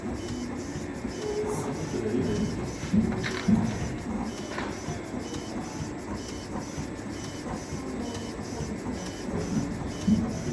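A CNC machine engraves a gold-plated one-ounce silver round from the Perth Mint, giving a steady mechanical whir and hiss with faint intermittent ticks throughout and no talking.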